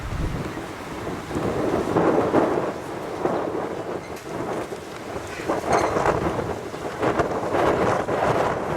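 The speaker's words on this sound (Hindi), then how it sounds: "बारिश लगी।" Rain falls steadily on Mount Nebo among olive trees while thunder rumbles and rolls repeatedly, with gusts of wind buffeting the microphone.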